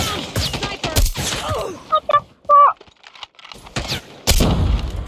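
Video game bursts of gunfire crack and rattle amid clanking mechanical effects and shouted voices, loud and close, with brief pauses between volleys.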